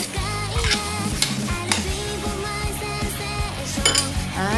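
Sautéed chicken and Baguio beans are stirred in a pan, with a utensil scraping and clinking against the metal over a steady sizzle, close and alone without talk.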